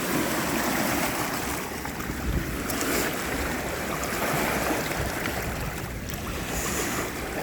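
River water splashing and running steadily as a heavy mudlarking find is rinsed by hand at the riverbank, a close, continuous wash of watery noise with no speech.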